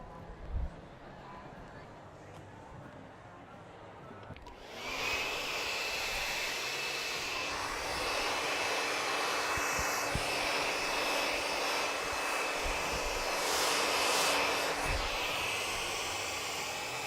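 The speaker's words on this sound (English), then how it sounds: "I'm just drying my model's hair" Hair dryer blowing on a model's hair during a live razor-cutting lesson, switching on after a few seconds of quiet and then roaring steadily and loudly with a faint whine, under occasional talk.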